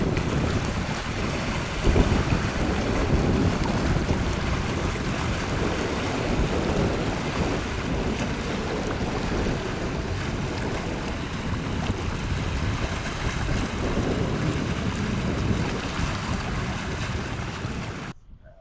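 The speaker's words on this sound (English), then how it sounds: "The wind's got back up since earlier on" Wind blows steadily across a Scottish loch, a constant broad rushing and buffeting with no break, strong and close throughout.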